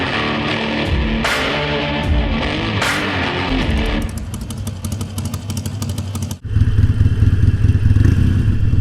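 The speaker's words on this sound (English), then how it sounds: "today we are riding this Harley through Vero Beach" A Harley-Davidson motorcycle riding through Vero Beach, Florida: a loud, steady engine rumble with clattering and wind noise close to the rider, a brief dip in sound near the end before the engine roars back.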